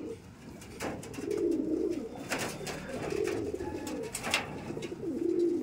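Madrasi pigeons coo repeatedly in a loft, their low rolling calls overlapping nearby and steady, with faint wing flutters and small clicks around them.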